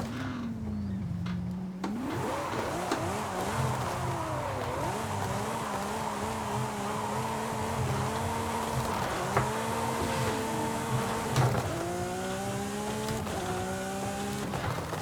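A Lamborghini SVJ engine in Forza Horizon 5 revs hard and climbs through gears, pitch rising and dropping with each shift, loud and continuous, with a brief idle at the start.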